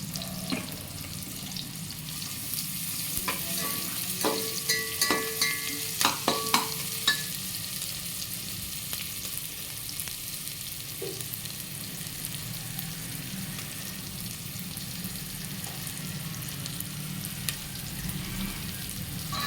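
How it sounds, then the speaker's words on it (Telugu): Ginger garlic paste and curry leaves fry in a pan with a steady, close sizzle, while a few light utensil taps come early on and no one speaks. "ఒక రెబ్బ కరివేపాకు, ఇవన్నీ వేగాలి పచ్చి వాసన పోయేంత వరకు."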